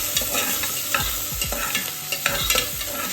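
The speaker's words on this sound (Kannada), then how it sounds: "ಆನಿಯನ್ ಹಾಕೊಂಡ್ಮೇಲೆ ನೀಟಾಗಿ ಫ್ರೈ ಮಾಡ್ಕೊಳ್ಳಿ" Chopped onion frying in hot oil for a country-style chicken sambar, with a steady sizzle broken by repeated scraping stirs of a spatula against the pan, close and fairly loud, no voices.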